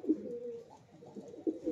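A male and female pair of Kalangga pigeons coo softly at close range, giving a few low, rolling coos with short pauses between them.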